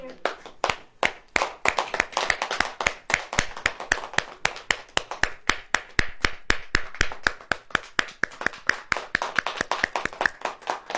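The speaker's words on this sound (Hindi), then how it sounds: "ताली बजाएं" A church congregation claps hands together in a fast, steady rhythm, dozens of sharp loud claps in unison continuing throughout, with voices faintly underneath.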